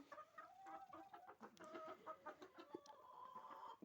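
Chickens cluck and murmur close by in a steady, busy chatter, with no talking.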